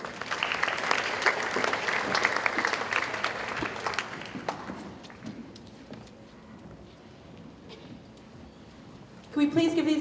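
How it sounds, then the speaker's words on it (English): A school assembly audience at St Hilda's School claps loudly for about four seconds; the applause then fades into quiet hall ambience, with a short sharp burst of sound at the very end. "Can we please give these girls another round of applause?"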